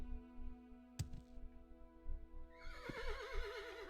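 A horse neighs with a sharp rising whinny about a second in, then a longer wavering whinny toward the end, set among a rural scene with clay huts and steady background tones.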